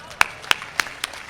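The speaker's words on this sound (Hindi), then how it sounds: "आपकी तालियां कमजोर है" Short, thin applause from an audience at a Hindi comedy poetry gathering, four distinct claps spaced about a quarter second apart, faint and sparse rather than a full ovation.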